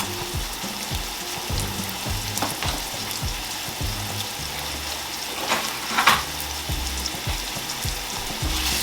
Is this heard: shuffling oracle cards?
no